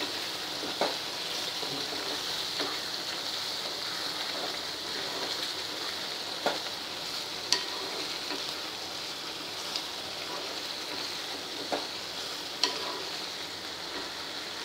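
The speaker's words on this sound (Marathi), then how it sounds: "असं झाकण उघडून आपल्याला परत छान मिक्स करायचं आहे" Food stirred in a pan after the lid is lifted, a continuous close sizzle with occasional soft scraping clinks from the utensil at irregular intervals.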